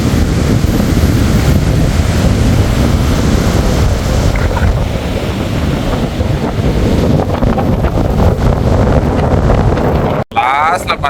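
Strong wind at the seashore at Dhanushkodi batters the microphone with a constant loud roar and rumble, and waves sound faintly beneath it. A voice is partly buried in the gusts.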